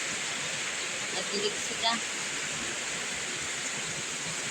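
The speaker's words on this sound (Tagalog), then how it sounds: "Kasi po, ang ulan, grabe." Heavy rain pours down in a steady, dense hiss that fills the whole stretch, with a few brief spoken words partly over it.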